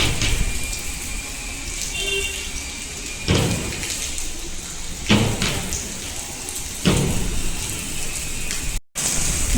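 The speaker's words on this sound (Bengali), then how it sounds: "প্রচণ্ড জোরে বৃষ্টি পড়ছে" Heavy, windy rain pours down in Gariahat as a dense, constant hiss, swelling in several louder gusty bursts, with a brief dropout near the end.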